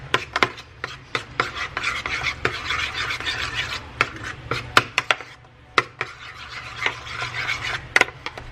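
A spoon mixes melted cream cheese with buffalo sauce in a bowl, giving close, irregular scraping and clinking strokes against the dish, with no talk.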